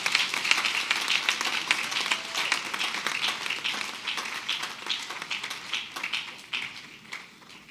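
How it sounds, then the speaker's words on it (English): A graduation ceremony crowd at UHAS gives sustained applause welcoming a guest speaker, a dense wash of many hands clapping steadily for several seconds before tapering slightly toward the end. "With a thunderous applause, shall we welcome our guest speaker?"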